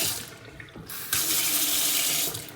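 Water gushes from a newly repaired and greased tap into a sink, starting after a brief lower rush and then flowing loud, steady and close for the rest of the moment.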